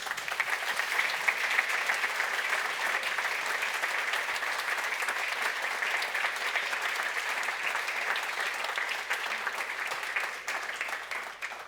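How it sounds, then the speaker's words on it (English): Audience applause at the Neos Awards ceremony, part of a software conference, fills the room as a steady, dense clapping that lasts about eleven seconds and tapers slightly at the end. "Applause."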